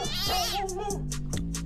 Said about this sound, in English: This sounds like my cat.